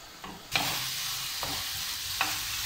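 Onions sizzling in a hot pan while cooking for tacos, a steady hissing fry that jumps louder after half a second, with a few faint stirring clicks and no talking.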